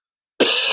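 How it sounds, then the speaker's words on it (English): One abrupt, harsh cough from a man with flu bursts out close and loud after silence and holds briefly as a rough, breathy rasp. "you must excuse my coughing"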